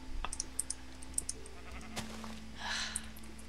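Sheep in Minecraft Feed The Beast give a few short bleats alongside scattered keyboard clicks and small game noises, fairly faint and close.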